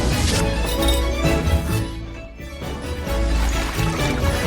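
Water pours steadily into a toy bathtub in a dollhouse bathroom, a continuous close splashing fill with brief clatter, dipping for a moment midway before resuming loudly.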